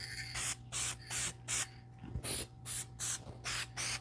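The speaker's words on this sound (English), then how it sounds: "With plastic, you want to use an adhesion promoter to help it stick a little bit better." Plastic adhesion promoter is sprayed from an aerosol can onto a plastic part before a weathered copper paint finish, in about eight short, evenly spaced hissing bursts with brief quiet gaps between them.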